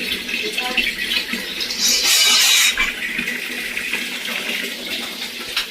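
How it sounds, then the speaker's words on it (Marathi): Water gushes loudly from a supply tap in a steady rushing stream that surges briefly in the middle, with a voice speaking nearby over it. "तुम्हाला दाखवतो बघा अशा प्रकारे पाणी आलं आहे"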